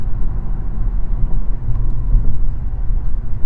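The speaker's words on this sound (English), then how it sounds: "I hear like something revving." A car engine rumbles loudly and close by on a road, a heavy low drone that surges and dips slightly without clear separate revs. No one is talking.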